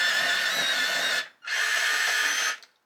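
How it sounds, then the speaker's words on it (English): Electric pencil sharpener grinding a coloured pencil in two steady, high-pitched whirring bursts of about a second each, with a short pause between them, close and loud with no talk. "You're going to hear my"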